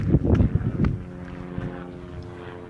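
A low, steady drone from a landing helicopter's rotor with a harmonic hum persists after a few seconds of wind buffeting on the microphone.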